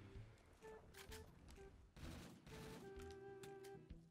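An unfamiliar gun fires loudly in Black Ops 3 custom zombies on a Simpsons-themed map, with repeated sharp shots and bursts over a busy game soundtrack, and tonal effects running throughout.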